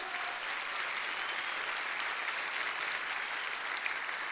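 Church congregation applauding steadily throughout, a dense continuous wash of clapping from a crowd filling the room, with no talk over it.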